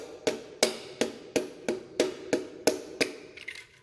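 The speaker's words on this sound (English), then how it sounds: "take your hammer and just gently tap that little rascal in the hole" Rubber mallet taps a piston down through a ring compressor into an engine block: nine evenly spaced, sharp knocks roughly every third of a second, close and clear, with no talking.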